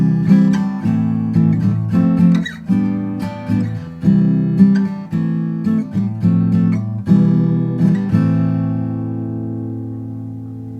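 An acoustic guitar strums a chorus chord progression at song tempo, with rhythmic strummed chords changing every bar or so, close and clear, ending on a final chord left to ring out and fade.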